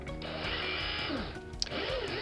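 A steady, high-pitched power tool whine runs throughout, with a brief sharp click midway, as a drill bites into the die-cast metal base of a Corgi Ford Thames ice cream van toy.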